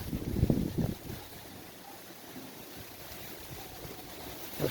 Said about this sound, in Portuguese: O vento tá fortíssimo.